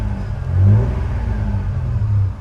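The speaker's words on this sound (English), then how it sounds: "So let's go ahead and rev it up some." A car engine revs up from idle with a rising, swelling drone, eases back, then climbs again near the end, loud and close with no talking.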